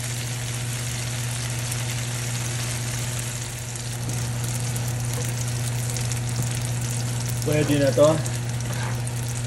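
Small-cut ingredients for Kapampangan pancit luglog fry in hot oil until golden brown, giving a steady, continuous sizzle close by, with a brief spoken remark near the end.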